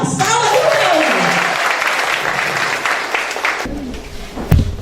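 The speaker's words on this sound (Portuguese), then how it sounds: "Uma salva de palmas" An audience at an evening church seminar on faith and politics breaks into applause, a full clatter of clapping that fades out as voices and room noise take over.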